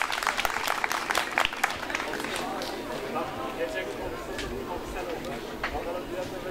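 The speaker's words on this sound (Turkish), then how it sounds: "Kuvvetli alkışlarınızla." Applause from a crowd gathered at an outdoor village picnic, a dense spread of clapping that carries steadily from start to finish with crowd noise mixed in, fairly loud and close.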